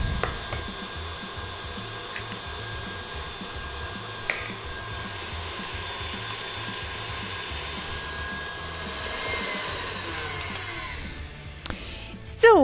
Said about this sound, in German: Wir rühren auf jeden Fall so lange, bis der Zucker sich gelöst hat